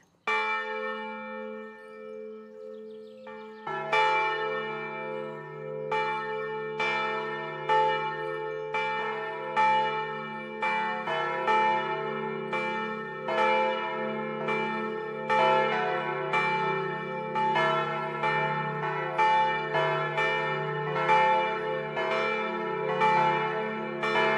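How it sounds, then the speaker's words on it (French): Church bells ring out at the Clarisses monastery in Ronchamp, near Notre-Dame-du-Haut: one bell starts alone, then a full peal of repeated, overlapping strikes with long resonant tails carries on steadily, with no voices. "entendre sonner les cloches à Notre-Dame-du-Haut"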